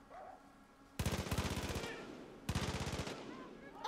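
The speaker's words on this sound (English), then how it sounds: "who just went in with guns blazing?" Two quick bursts of rapid automatic gunfire in a video game, each about a second long with distinct sharp shots, separated by a short pause over quiet background sound.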